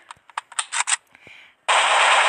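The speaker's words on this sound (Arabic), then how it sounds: "حد بيضرب نار" Gunfire from the online shooter Local Warfare: several short irregular shots crack in quick succession, then a loud sustained burst of rapid automatic fire runs to the end.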